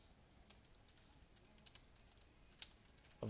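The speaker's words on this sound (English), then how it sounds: "So I'm just gonna type System" Fingers tapping on a computer keyboard, a quiet, irregular run of close clicks typing in a search query.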